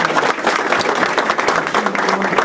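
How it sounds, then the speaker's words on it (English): Close, lively applause from an audience at a community center opening, acknowledging a district attorney: dense hand clapping with fluttering peaks, loud and continuous over the whole stretch. "Give her a round of applause."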